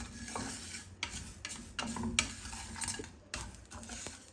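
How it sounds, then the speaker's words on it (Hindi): A spoon keeps stirring and scraping spices as they roast in a pan for green chilli pickle masala. There are repeated close clinks and a soft sizzle, with no talking. "चम्मच बराबर चलाते जाए ताकि एक जैसा जो है वो मसाला जो है वो रोस्ट हो"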